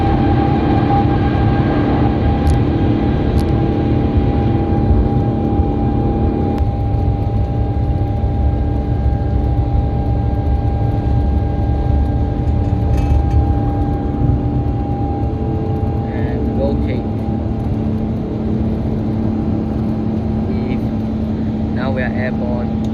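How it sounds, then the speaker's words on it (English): Rolls-Royce Trent XWB jet engines on an Airbus A350-900 warming up, a steady loud low drone with whining tonal hum heard from inside the cabin, continuous throughout with faint clicks. "Trent XWBs warming up."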